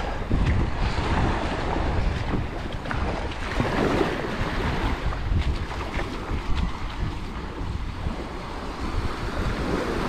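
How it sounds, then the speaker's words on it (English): A charter boat out at sea near Buck Island, heard as a loud, steady wash of waves and hull noise buffeted by strong wind against the microphone. "Toro, that's a charter boat."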